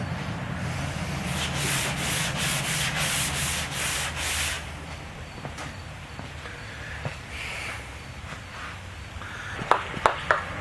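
Rhythmic back-and-forth sanding strokes rasp across a 1972 Dart trunk body panel for several seconds, then stop, leaving quiet handling noises and a few light knocks.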